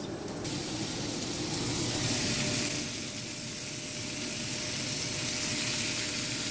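Chopped tomatoes dropped into a hot pan of browning garlic and onions, setting off a loud, steady broadband sizzle that holds for several seconds without speech.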